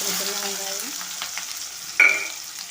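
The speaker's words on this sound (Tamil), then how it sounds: "கொஞ்சோண்டு சீரகம், கடுகு, ரெண்டு பச்சை மிளகாய்" Cumin, mustard seeds and two green chillies fry in hot oil in a pan, giving a steady close sizzle with scattered pops and spits, a sharper crackle near the end, and no talking.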